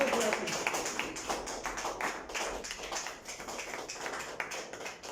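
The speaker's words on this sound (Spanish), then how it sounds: "Dale un fuerte aplauso al Señor." Congregation at a Thursday church service gives a strong round of applause, dense continuous hand clapping with faint voices mixed in, moderately loud and steady from start to finish.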